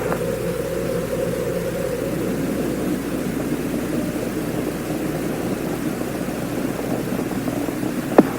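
Space Shuttle Challenger's engines roar during the STS-51L launch as a steady, distant low rumble that holds constant throughout, ending in a brief sharp click.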